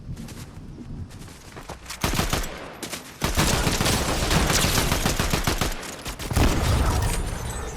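Dense, rapid gunfire from a Fortnite Zero Build match, with sustained bursts of automatic shots and sharp single reports, loud and close, with no talking.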